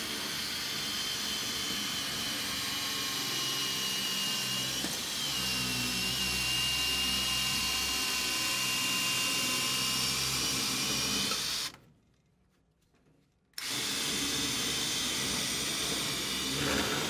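A hole cutter bores into a return plenum during an AprilAire 500 whole-house humidifier install, giving a steady loud grinding whir that runs for about twelve seconds, briefly stops, then resumes.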